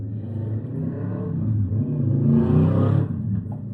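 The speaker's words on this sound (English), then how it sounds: "That was a motorbike going past my house." A motorbike passes a house, its engine rumbling steadily, swelling louder as it nears around the middle and fading away afterward, heard alone without talk.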